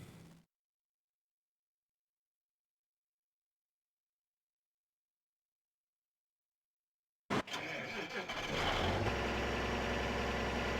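Farming Simulator 17 tractor engine idling: after a long stretch of near silence, a steady mid-to-low engine drone kicks in abruptly and holds at a constant, fairly loud level until the end.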